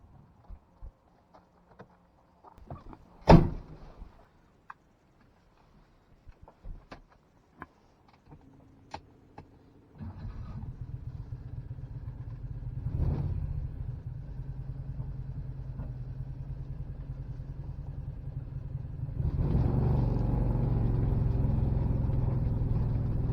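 A Renault 670 Predator fitted with a new exhaust pulls away: after a few quiet clicks and knocks, the engine settles into a steady rumbling drone, swelling louder as the car gets moving, with no talking.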